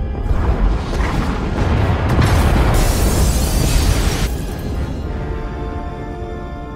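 Pod bays blowing up aboard a ship in Star Wars: The Old Republic, Knights of the Fallen Empire: heavy, rolling blasts and crackling debris that swell over several seconds, then fade into a lingering rumble.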